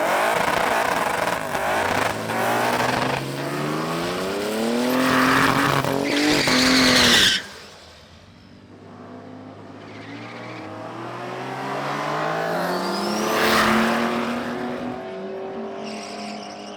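A budget drag-strip car launches hard down the track with wheel spin, its engine revving and climbing through gears with tire squeal while the throttle is pedaled. Afterward a quieter engine drone returns and builds again.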